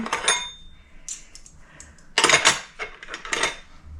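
Metal measuring spoons and other utensils clink and rattle while being sorted in a silverware drawer, giving several short, close bursts of jangling with gaps between them and no talking.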